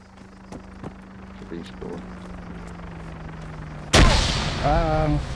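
A grenade explosion in Arma 3 hits as one loud, close broadband blast partway through, after a stretch of steady low hum and scattered distant pops, and a voice talks over the aftermath.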